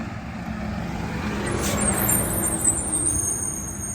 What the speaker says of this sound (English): bus is coming